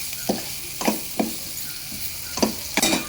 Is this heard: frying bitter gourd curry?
yes